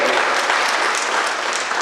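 A hall audience at a Marathi literary conference claps steadily and densely to welcome a newly chosen president, a continuous loud wash of applause throughout.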